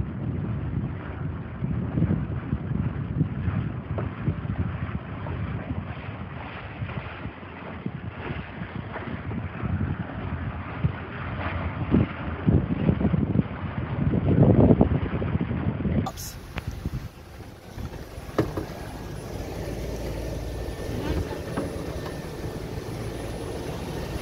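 Electric Chris Craft boat pushed to full throttle, a steady broadband rush of motor and wind buffeting close to the microphone, with people talking over it and a sharp shift in tone partway through.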